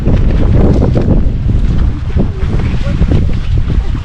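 Strong wind gusting at Linville Gorge, buffeting the microphone with a loud, constant low roar and rumble that swells and eases, filling the whole stretch with no clear voices above it.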